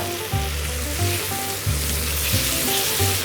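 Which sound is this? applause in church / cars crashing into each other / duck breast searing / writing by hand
duck breast searing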